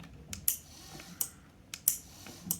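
Sharp, faint mechanical clicks from a relay on the circuit board of an IKEA BEKANT sit/stand desk that stopped moving tick irregularly, about half a dozen over a couple of seconds, against a quiet background.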